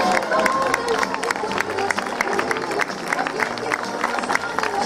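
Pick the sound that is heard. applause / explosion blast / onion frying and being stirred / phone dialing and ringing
applause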